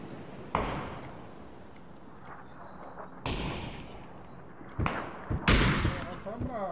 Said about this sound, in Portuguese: tem tiro aqui já.